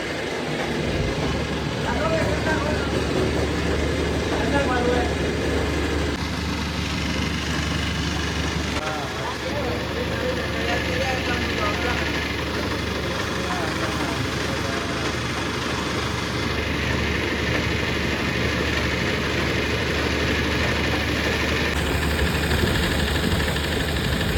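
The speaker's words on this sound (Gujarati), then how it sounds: "आटा चक्की है" A flour mill (atta chakki) engine runs in a steady, dense mechanical drone with constant vibration throughout, while people talk over it.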